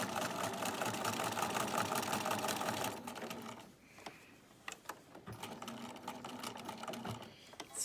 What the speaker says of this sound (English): I think for this I'm going to do straight stitch just because when you're doing the box sewing